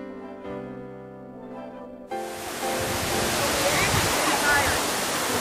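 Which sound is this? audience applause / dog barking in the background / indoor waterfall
indoor waterfall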